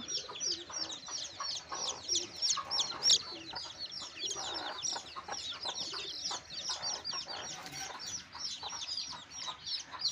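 A native desi hen clucks among three newly hatched chicks, whose dense, rapid high peeping chirps run continuously around her low clucks at close range, with no talking.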